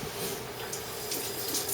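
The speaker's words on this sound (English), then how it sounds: "Let me wash my hands" Water runs steadily from a kitchen tap for hand washing, a continuous close hiss and splash with no pauses and no talk.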